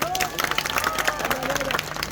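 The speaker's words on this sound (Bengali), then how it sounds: "আরশ খানের জন্য একটা হাততালি।" At an office picnic festival for Mercedes Limited, the crowd claps for Arash Khan, an uneven patter of hands mixed with cheers and chattering voices.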